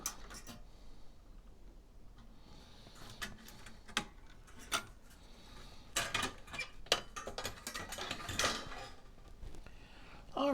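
Small metal clicks, ticks and light clatters of a little internal board being unscrewed and lifted out inside a Tandy 1100FD computer, close and intermittent, with denser rattling bursts toward the end.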